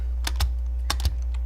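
Several sharp keyboard keystrokes clatter in short bursts over a steady low hum, as someone types text on a computer keyboard, with no voices.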